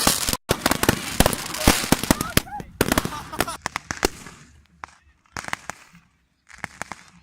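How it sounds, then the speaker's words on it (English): Fireworks and firecrackers going off outdoors on the one day of the year they are legal, a rapid, irregular barrage of sharp loud bangs and crackles that thins into scattered pops with brief silent gaps. "It was the one day in the year where fireworks are legal."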